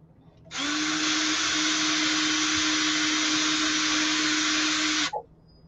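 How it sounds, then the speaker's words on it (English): A small power drill runs steadily for several seconds at a miniature-making workbench, starting and stopping abruptly with a continuous bright whine, close and loud, with no talk over it. "Oh, I'm here drilling."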